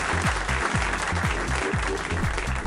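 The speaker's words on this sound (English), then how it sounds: "Give her a round of applause." A short burst of steady, dense applause from an audience, continuous and fairly loud, with no talk over it.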